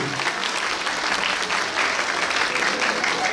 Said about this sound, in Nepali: जोरदार जोरदार अन्तिमपटक ताली यो सम्मानको लागि।